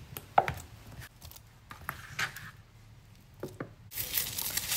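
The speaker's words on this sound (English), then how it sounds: "I'm going to use all of them, I'm just going to slice them in half." A knife slicing piccolo tomatoes in half on a chopping board, several crisp separate cuts and taps at an uneven pace, close and moderately loud, ending in a rustle.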